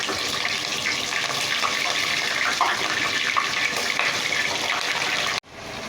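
Chicken pieces dropped into two spoons of hot oil in a karahi pan, giving a loud, steady broadband sizzle that runs unbroken for several seconds, then cuts off abruptly near the end before a quieter hiss returns.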